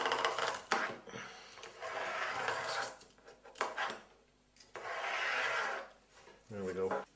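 Plastic sheet being cut a little at a time while fitting a drop-riffle sluice box, heard as close, repeated rasping strokes in bursts separated by short pauses.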